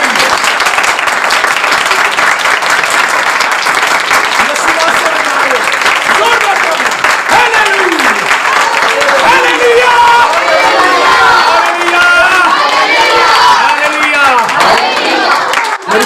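A church congregation applauds loudly and steadily, with cheers and raised voices mixed in, forming a dense, continuous wall of clapping that fills the hall from start to finish.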